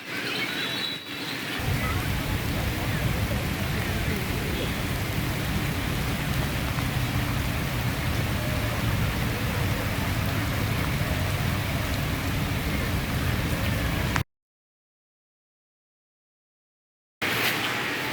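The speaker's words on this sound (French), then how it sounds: "Il pleut encore et encore." Steady rain pouring down in India, a dense, continuous hiss of drops on surfaces that holds unbroken for a long stretch, with a brief cut to silence near the end.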